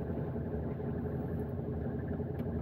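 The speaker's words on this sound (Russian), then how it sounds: "сейчас тачка маленечко прогреется" A car engine idles steadily while warming up on a winter day, a low continuous rumble held at an even level throughout, with no talk.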